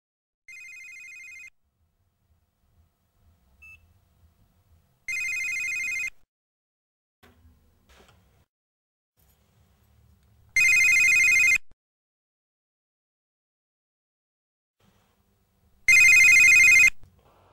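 A telephone rings in four evenly spaced electronic bursts, each about a second long, loud and close with silence in between.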